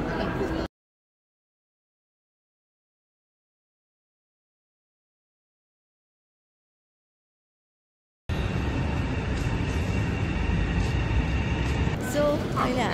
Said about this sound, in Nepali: सो अहिले हामी मेट्रो स्टेसनमा छौँ।